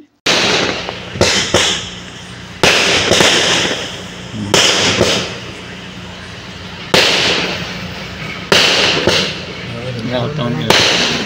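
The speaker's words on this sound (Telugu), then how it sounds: "ఇక్కడ చూడండి పైన క్రాకర్స్ కాలుస్తున్నారు" Loud firecrackers bursting overhead at a wedding celebration, in repeated crackling volleys, each a sharp burst followed by a trailing crackle, several bursts over the span.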